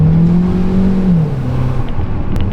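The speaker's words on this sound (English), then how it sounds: "How does it sound? Let me just floor it again." A 2023 Jetour Dashing SUV accelerating hard at full throttle, a loud droning engine note that rises and then drops in pitch, heard from inside with no talk.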